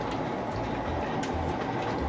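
A continuous low rumbling clatter of a small train running on its track, steady and close, with faint high chirps above.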